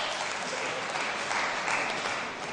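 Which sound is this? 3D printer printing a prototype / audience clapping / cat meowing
audience clapping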